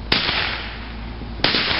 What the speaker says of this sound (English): Wow, these are really good fireworks.